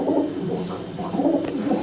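Pigeons in a home loft give soft, low, rolling coos, repeating closely and continuously at moderate volume with no talking.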